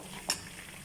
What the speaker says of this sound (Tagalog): Gigisa natin yung raisin